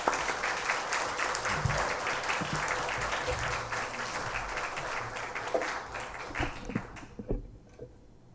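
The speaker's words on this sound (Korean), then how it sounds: "여러분 환영의 박수 보내주시기 바랍니다" A university chapel audience claps steadily in warm welcoming applause for a speaker that gradually thins out, leaving a few scattered claps and louder individual taps before it fades.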